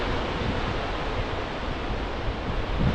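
Gullfoss, a powerful waterfall in Iceland, roars as a steady, dense broadband rush of falling water, loud and unbroken throughout with no voices.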